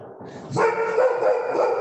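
A dog gives a single loud, close, drawn-out bark that rings on briefly, following a short stretch of quieter background noise.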